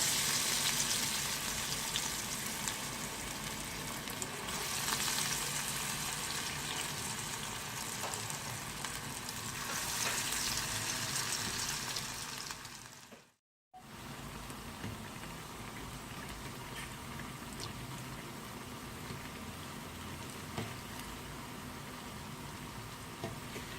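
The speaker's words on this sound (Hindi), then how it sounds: "इसे आप जब हल्की आंच पे फ्राई करेंगे तो ही ये खस्ता होंगे" Chana dal pakora batter fries in hot oil over a low flame, a dense, steady crackle and bubbling hiss running throughout with a brief dropout midway.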